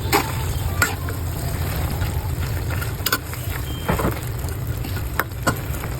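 Sardines cooking with broccoli and vegetables in a pan at home, a steady low sizzle and bubbling with occasional light scrapes and knocks of stirring, fairly quiet and continuous.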